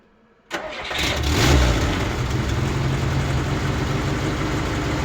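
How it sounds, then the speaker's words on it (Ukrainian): A VAZ 2121 engine cranks and starts after a quiet moment, briefly revs, then settles into a steady close idle while running with water in the cooling system for a flush. "Запускаю двигун на кілька хвилин."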